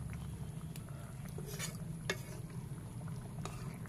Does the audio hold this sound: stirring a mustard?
yes